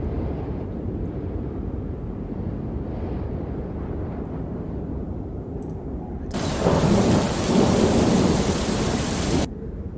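A thunderstorm sound effect: a low rolling rumble of thunder with steady rain, then a sudden louder burst of heavy rain or crackling thunder before it drops back.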